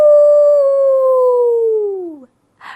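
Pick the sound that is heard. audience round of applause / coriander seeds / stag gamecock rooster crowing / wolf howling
wolf howling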